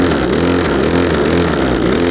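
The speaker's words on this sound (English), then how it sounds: "And then a little rev to warm the engine." A Cobra LRH270K long-reach petrol hedge cutter engine runs loud and close, revved briefly with a steady buzzing drone that holds throughout.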